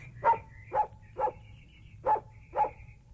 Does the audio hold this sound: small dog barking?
yes